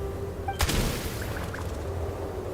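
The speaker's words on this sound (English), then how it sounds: "There's the gunshot." A single sharp gunshot bursts out in the Genshin Impact video game, close and loud, followed by a short crackling tail and a few faint game effect tones against steady background ambience.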